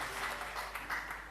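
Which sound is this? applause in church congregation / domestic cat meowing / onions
applause in church congregation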